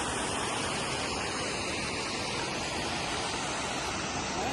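Ranpat waterfall in Ratnagiri, a constant broadband roar of falling water heard up close, steady and unbroken with no voices.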